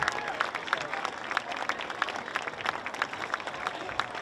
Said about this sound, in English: give a huge applause to the appreciation of all of our veterans